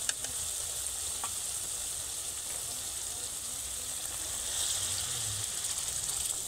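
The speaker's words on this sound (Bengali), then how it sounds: "তো এইবার আমি জল দিয়ে দেবো।" Water added to fried pointed gourd in a hot pan makes a steady, close sizzle and hiss that continues without a break, swelling slightly near the end.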